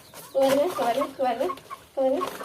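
A fighting rooster kept on its own gives several short, harsh clucking calls close by, in bursts with brief gaps.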